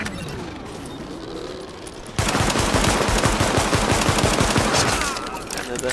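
Sustained automatic gunfire in Tom Clancy's The Division, starting abruptly after a quieter stretch and continuing as dense, loud rattling bursts before easing off near the end; no talking.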